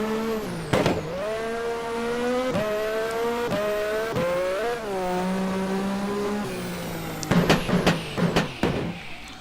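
An IndieCar race car in a racing video game drives a slow pace lap, its engine droning steadily as the pitch rises and falls with each gear change, followed by a cluster of sharp bursts near the end.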